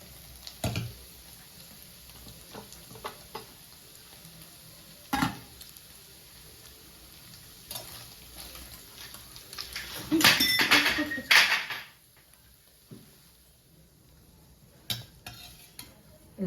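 Rice is stirred into peas and paneer frying in a pot, with a steady soft sizzle and repeated scraping and clattering of a spoon against the metal, loudest in a burst of vigorous stirring, while a person talks.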